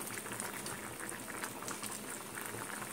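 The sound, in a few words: chilli chicken sauce boiling in a pan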